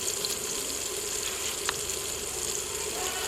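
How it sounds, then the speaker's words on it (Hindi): Tomato paste frying in a pan for a desi chicken shorba, giving a steady, even sizzle and hiss that runs throughout at moderate level, with no talking. "टमाटरों का पेस्ट तैयार होने तक भून लेंगे।"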